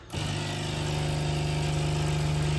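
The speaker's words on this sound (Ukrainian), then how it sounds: "Запускаємо заправу кави, десь тут 16 грам, але сито таке." A professional portafilter coffee machine brews a shot with about 16 grams of coffee, a steady loud pump hum with a strong constant tone starting abruptly and droning on without pause.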